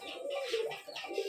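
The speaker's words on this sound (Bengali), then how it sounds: "এগুলো তো আপনার কাছে সব এক ব্রিডেরই কবুতর?" Pigeons coo softly at a pigeon farm, a few short, low throaty calls in quick succession, faint and close with light background noise.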